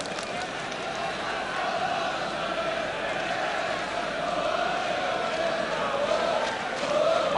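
A steady roar from a football crowd at a 1976 Tottenham Hotspur versus Everton match, a sustained wash of chanting and cheering with a commentator talking over it throughout.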